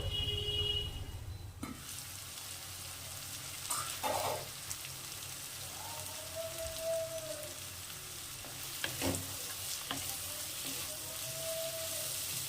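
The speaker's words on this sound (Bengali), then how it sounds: "সবজিগুলো একটু ভালো করে ভাজতে হবে, আবার খুব বেশি ভাজবে না" Mixed vegetables for a pulao made with leftover rice sizzle in hot oil in a pan, a steady frying hiss broken by a few sharper clatters and stirring scrapes, close up with no speech.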